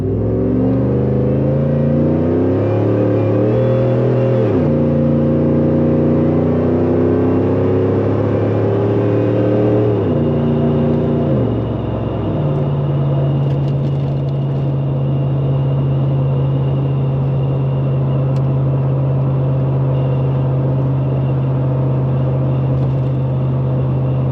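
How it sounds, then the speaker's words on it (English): A supercharged Roush Ford F-150 with Valvetronic mufflers accelerates hard onto a highway, its loud engine climbing through revs and shifting gears several times before settling into a steady, droning cruise. "We'll accelerate a little bit harder here because we're getting on the highway."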